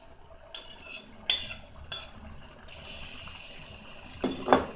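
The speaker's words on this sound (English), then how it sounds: "So I'll put my beans now." Beans tipped into a cooking pot of cassava leaf, with close clinks, stirring and soft wet scraping sounds in a quiet kitchen.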